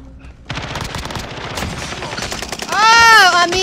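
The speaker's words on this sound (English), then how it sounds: "Taking fire." Rapid automatic gunfire rattles close and loud in an Alcatraz match of a first-person shooter video game, a dense burst of shots that swells louder near the end as a voice cries out over it.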